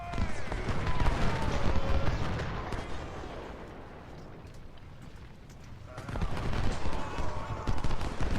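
Civil War infantry battle at Chantilly in Ultimate General, musket volleys crackling in dense ragged rolls with distant booms, loud at first, easing to a quieter lull, then swelling into another heavy fusillade.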